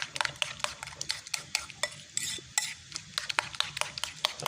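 Seasoned eggs for a fried omelette being whisked in a bowl, giving rapid, uneven clicks and taps of utensil against the dish that run on without pause at close range, with no speech.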